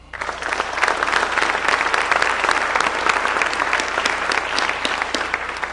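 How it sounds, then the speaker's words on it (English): At a university news conference, the audience gives a round of applause for a former chair and current trustee, a loud, sustained burst of many people clapping that rises quickly and stays steady for several seconds. "let's give a round of applause for our former chair and current trustee, Alan Graff"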